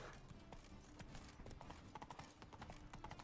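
Roach the horse galloping in The Witcher 3 video game, with a steady, rhythmic clip-clop of hooves up close over a constant bed of ambient game sound and music.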